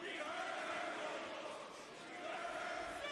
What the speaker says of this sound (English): Philly's still chanting that